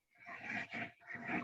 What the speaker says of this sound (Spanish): Perdón por el ruido de mis perros.